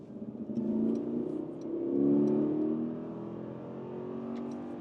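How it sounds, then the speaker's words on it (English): 2025 Mercedes GLS V8 with mild hybrid boost pulling hard in sport mode, a smooth rising engine note with shifts that dips and climbs again, heard from inside, no talking. "Yeah, that V8 is going quite well."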